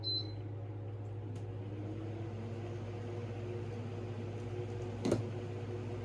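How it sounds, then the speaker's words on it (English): An electric fan hums steadily in the background, a low, even drone with a faint click partway through. "I apologize for the sound of the fan in the background"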